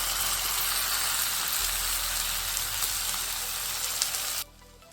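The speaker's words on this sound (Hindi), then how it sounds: "अच्छे से मिक्स करेंगे और तेज़ आंच पे 2 से 3 मिनट अच्छे से भूनेंगे" Finely chopped tomato and translucent onion fry over high heat in a pan, a loud, steady close-up sizzle that holds for several seconds and then cuts off abruptly.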